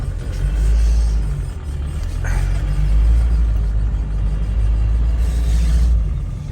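A Toyota Hilux engine labouring in first gear in deep powdery snow at -20°C, a loud, deep, sustained rumble with rising and falling revs.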